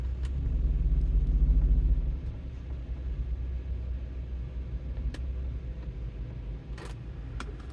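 A car pulling up to park beside the sidewalk, a low rumbling drive that swells in the first couple of seconds and then settles into a quieter steady hum, with a few faint clicks and no talking.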